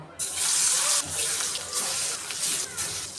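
Rohu fish pieces drop into hot oil in a wok, a sudden loud burst of sizzling that settles into a steady, close hissing fry with small crackles and no voices.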